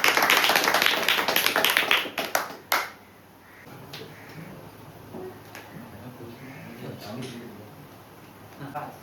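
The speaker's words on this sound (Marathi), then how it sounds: "सगळ्यांनी जरा टाळ्या वाजवा." A crowd of people, including schoolchildren at a notebook distribution event, claps loudly and densely for about two and a half seconds, then the applause stops abruptly. Quieter talking and scattered taps follow.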